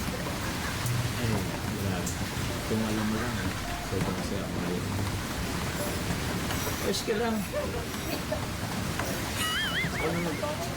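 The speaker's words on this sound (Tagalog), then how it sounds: "Sakit sa tenga yung ulan." Steady, heavy rain hisses throughout, with people talking over it and a few high warbling tones near the end.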